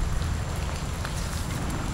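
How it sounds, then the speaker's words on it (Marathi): Heavy monsoon downpour in the Konkan countryside, a dense unbroken roar of rain with loud low rumble and scattered sharper drop hits throughout. "दिवसभर जबरदस्त पाऊस पडलेला आहे सकाळपासून"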